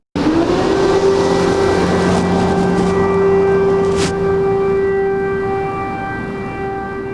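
A civil-defence air raid alert siren in Lozova, Ukraine, wails loud and steady on a single sustained tone that rises at onset and slowly fades, with no one speaking.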